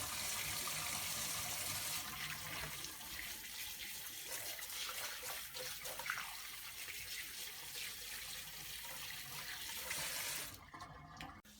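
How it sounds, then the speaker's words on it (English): Hands being washed under a running kitchen tap: a steady, close rush of water that continues unbroken, then cuts off abruptly just before the end. "So, now you're going to want to wash your hands."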